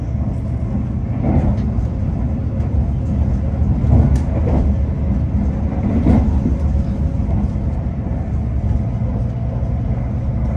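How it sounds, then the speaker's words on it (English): Hitachi-built TransPennine Express train running on the line between Meadowhall and Doncaster, heard from on board as a loud, steady rumble and hum with faint clicks and thumps from the track, and no talking. "Hitachi, really nice trains."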